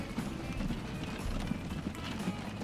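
Horse cart clip-clop in the Transport Fever game, with rapid, continuous hoof clatter over dense rumbling background noise, fairly loud and unbroken throughout, with no talking.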